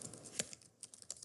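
A few quiet computer keyboard keystrokes, one sharper tap standing out among softer irregular clicks, close and without speech, as an article is typed into a website post editor.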